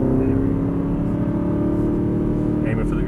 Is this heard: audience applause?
no